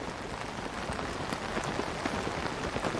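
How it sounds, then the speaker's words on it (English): Rain patters steadily on a glider's fabric in Tears of the Kingdom, a dense, even hiss of countless small drops tapping close by without pause. "listen to the sound of rain hitting the glider"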